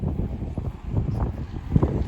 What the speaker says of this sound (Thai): หนาวมากจริงๆ หนาวเพราะลม